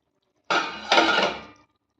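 A metal lid lifted off a pot of dried fish curry, a short close clatter followed by a second scraping metallic clink, in near silence.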